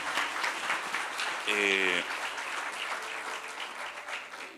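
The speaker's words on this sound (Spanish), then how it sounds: "Les damos un aplauso, hermanos, por esta información." Audience applause for doctors at a talk on menopause and andropause, a steady roll of clapping with a brief tonal voice or horn rising over it midway, fading slightly toward the end.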